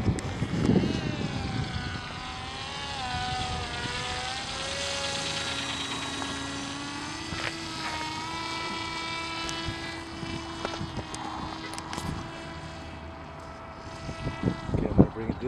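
An MIA Autogyro Racer G RC gyrocopter flies nearby, its small motor producing a buzzing whine that rises and falls in pitch as it speeds up and slows, continuous and moderately loud outdoors, with a brief voice near the start.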